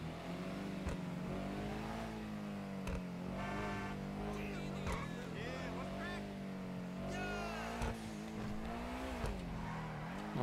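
A revving Pegassi Toros sports car engine in GTA 5 Online, with a steady droning note that rises and falls, broken by short bursts and clicks, with no talking.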